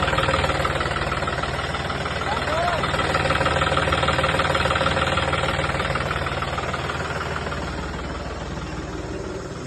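A 2017 model tractor engine idles nearby with a steady, low knocking rumble that holds for several seconds, easing slightly toward the end.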